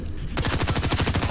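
Fortnite gunfire erupts after a brief quiet moment, a loud, rapid automatic burst of closely spaced shots rattling in a steady rhythm up close.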